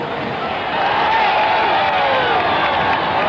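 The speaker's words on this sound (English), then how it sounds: "That's the Auburn cheering section." Auburn's cheering section roars at a 1964 Orange Bowl college football game against Nebraska, a dense, steady crowd noise from a large stadium with a sustained cheering swell throughout.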